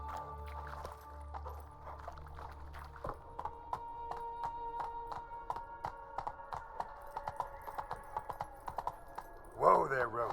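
Hooves of Roach, a horse in The Witcher 3, clip-clop in a steady rhythm while a voice speaks over them, with a brief whinny-like burst near the end.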